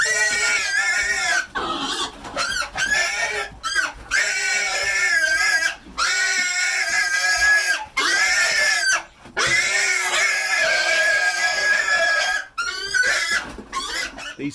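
Pigs grunt and squeal loudly in the wild, with shrill, rasping bursts that come in quick repeated bouts separated by short pauses and stay close and intense throughout.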